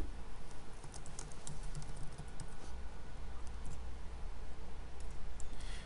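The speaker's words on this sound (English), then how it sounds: "So I'm going to type something." Typing on a computer keyboard into a Windows Notepad document, a steady patter of light key clicks running continuously close to the microphone with no talk.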